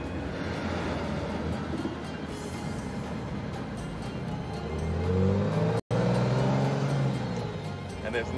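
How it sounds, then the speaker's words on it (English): A Maserati car engine drones steadily, then rises in a deep rev that swells louder toward the end, with a brief cut in the middle. "there's nothing like the sound of that Maserati engine."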